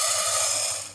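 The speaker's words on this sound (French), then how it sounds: "Dès que mon huile est suffisamment chaude, eh ben, je vais verser mon popcorn comme ça." Popcorn kernels pour into hot oil with a close, steady hiss and a fine rattle that runs the whole second, no voices.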